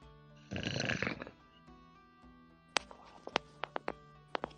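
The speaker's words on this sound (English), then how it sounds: "Is that someone snoring?" One person snores with a single rasping, drawn-out breath, followed by a quieter stretch with scattered sharp clicks and ticks.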